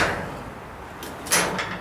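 Cab door of a mini excavator swung shut, a short muffled knock followed by a brighter latch clack near the end, close and fairly loud against a quiet outdoor background.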